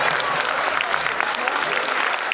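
Dense, continuous clapping from a school audience applauding Grade 8 student performances at a term-end staging of And Then There Were None, steady and fairly close throughout.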